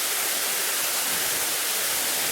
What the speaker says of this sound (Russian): Водопад Ширлак. 760 километр. Мощь природы в чистом виде.